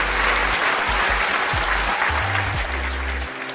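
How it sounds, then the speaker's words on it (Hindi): An audience at a UPSC topper success-story event applauds loudly in a dense, steady burst of many hands clapping. "ताली बजाइए जोर से।"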